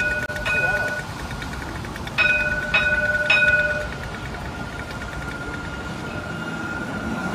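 A tram runs along a tramway in Morocco, a steady rolling rumble in the background with several bright tonal warning signals sounding in short bursts.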